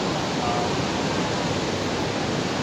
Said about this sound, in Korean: 목모랑시 폭포공원에 웅장한 폭포들을 촬영을 하고 있습니다